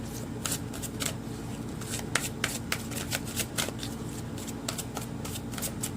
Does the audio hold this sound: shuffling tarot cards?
yes